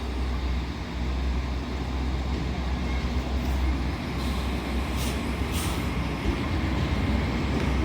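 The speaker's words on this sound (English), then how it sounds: "Departing now is your 1353 LNER Azuma service bound for Harrogate from London King's Cross." An LNER Azuma passenger train pulls out of Leeds station, giving a steady rumbling roar of wheels and motors with a brief hiss partway through, continuous and fairly close.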